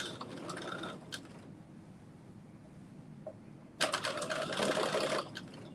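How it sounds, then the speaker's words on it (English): Sewing machine edge stitching along the fold of bias tape on a cropped bodice: a quiet rapid mechanical whir in short runs, fading to near silence, then a louder sustained burst of fast needle clatter near the end. "going to be stitching at the very edge of the fold on the bias tape"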